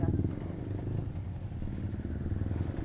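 A motorcycle engine idles nearby with a low, steady pulsing rumble, running continuously at moderate volume.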